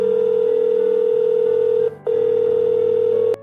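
A steady electronic phone tone on an outgoing call, one long continuous beep with a brief break partway through, clear and close with no voices.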